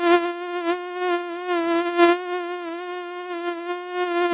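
A huge cartoon mosquito flies off with a continuous, close, nasal buzzing drone. The drone pulses slightly in loudness throughout, heard alone without voices.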